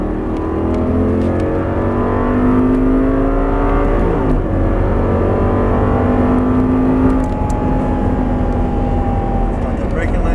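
An Audi R8 engine revs under throttle on a track. A loud, close, continuous drone climbs in pitch, dips around a shift and then rises again, while a voice speaks over the engine.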